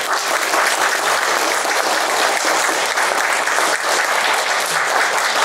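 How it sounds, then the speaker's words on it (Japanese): Audience at a talk on Chigasaki and modern theatre, after a revival staging of Sadayakko's Salome, gives the actors loud, sustained applause, a thick continuous roar of many clapping hands with no letup. "今日大変熱演をしてくださった、俳優の皆様に、もう一度盛大な拍手をお願いしたいと思います"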